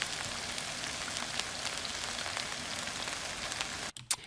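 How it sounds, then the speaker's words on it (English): Synthesized rain built from a recording of a stir fry sizzling in a pan: a steady, faint hiss dotted with fine crackles, cutting off abruptly near the end. "get something that sounds exactly like rain"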